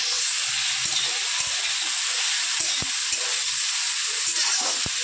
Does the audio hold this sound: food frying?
yes